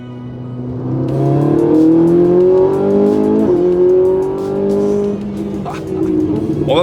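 A Ferrari 458 Italia V8 engine roars steadily, its pitch climbing and settling as the car drives and shifts gears on mountain roads in the Vercors. The car sounds close and loud.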